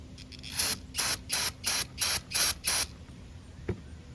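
Seven quick bursts of brake cleaner aerosol spray hiss in a steady rhythm, close up, followed by a single small knock.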